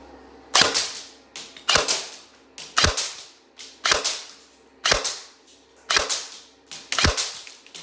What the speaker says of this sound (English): as you can see from shooting it on the range